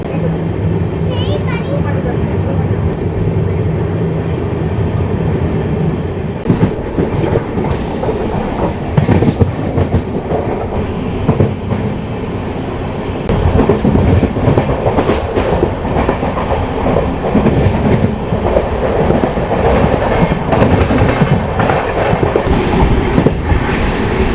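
Tirunelveli–Mangaluru Express train crossing the Vaigai river bridge, a loud steady rumble and rattle of wheels on rails throughout, with a voice talking over the train noise.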